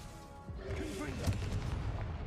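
A Confringo explosive spell in Hogwarts Legacy goes off as a deep booming blast with crackling debris, one main impact near the middle, under a shouting voice.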